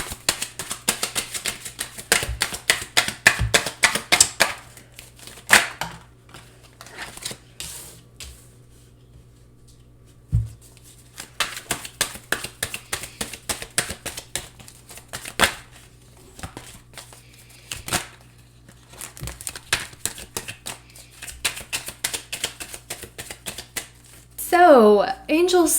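A deck of tarot cards is shuffled in repeated bursts of rapid riffling and flapping, close and crisp, with quiet gaps between rounds and a brief rustle at the end.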